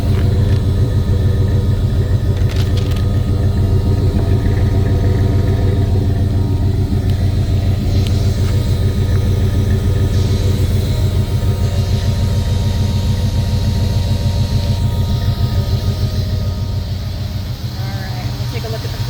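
A 1976 Ford F150 pickup's engine runs at idle with the exhaust going, a steady close rumble with a throbbing low pulse that fades slightly near the end, with some faint background noises.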